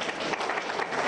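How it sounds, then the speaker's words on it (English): Audience applause at a news program event about senior high school computer placement, steady dense clapping filling the whole moment, fairly loud and close with no voices over it. "I thought we were going to applaud"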